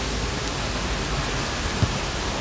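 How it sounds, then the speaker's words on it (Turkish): Heavy rain pours steadily down during an outdoor amateur football match in a company cup tournament, a dense, even hiss of rainfall filling the scene with one faint dull thump partway through. "Sağanak bir şekilde gelmeye devam ediyor."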